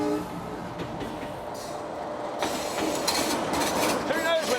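An old Indian train running in Kutch, with a steady rumbling rail noise that grows louder partway through, plus some squeals and rattling as the carriages roll on. Faint voices sit in the background.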